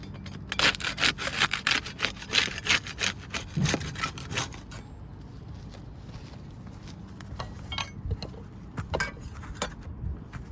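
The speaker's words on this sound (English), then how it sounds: "We use the putty knife to unseal the top shingle." A putty knife pries up sealed asphalt roof shingles: quick rhythmic rasping scrapes, loud and close for several seconds, then slower, scattered scuffs and taps.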